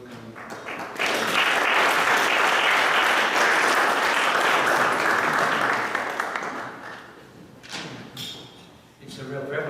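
Audience applause welcoming a speaker at a telecommunications engineering course anniversary at Carleton: a full round of clapping swells in after a second, holds steady, then fades into scattered claps and a few voices near the end.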